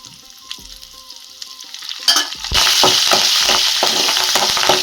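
Curry leaves dropped into hot oil with frying dal, quiet stirring clatter at first, then a sudden loud crackling sizzle that continues steadily, close up and without talk.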